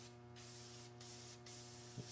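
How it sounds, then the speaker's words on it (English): Liquid Wrench penetrating oil is sprayed from an aerosol can onto a Chevrolet 350 engine in three short hissing bursts, close and fairly loud, over a faint steady hum. "Spray this in there."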